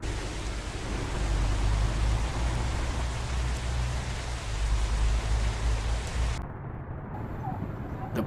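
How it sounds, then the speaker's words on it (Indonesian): Rain in the truck driving game Truckers of Europe 3, a dense steady hiss with a low rumble that suddenly drops in level near the end and goes on more softly. "hujan pun turun"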